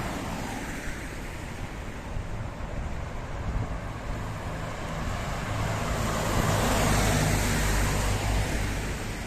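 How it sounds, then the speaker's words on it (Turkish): Heavy road traffic passes near Gonio Fortress in Batumi, Georgia, a steady, loud wash of engine and tyre noise that swells toward the end, with no voices. "trafik yoğun bu bölgede."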